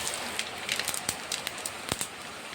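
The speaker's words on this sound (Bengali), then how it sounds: "ডাঁটার চচ্চড়ির জন্য আমি কড়াতে সর্ষের তেল দিয়ে দিয়েছি, ফোড়নে দেবো তেজপাতা, গোটা পাঁচফোড়ন" Bay leaves and whole panch phoron sputter in hot mustard oil in a kadai, making close, irregular crackles and pops over a soft sizzle.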